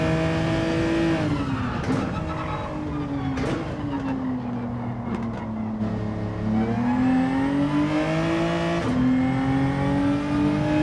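A race car in Gran Turismo 7 on the Nurburgring holds a loud, droning engine note that rises and falls as throttle is lifted and reapplied, with brief tire squeal between pitch swells.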